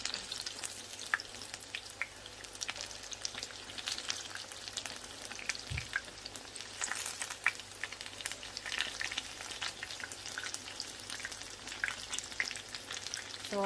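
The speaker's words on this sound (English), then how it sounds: "So 4 minutes, fry them for 4 minutes before picking them up." Aubergine fritters fry in a pan with a steady crackling sizzle, sharp spatters popping through it and a brief utensil knock partway, close and without talk.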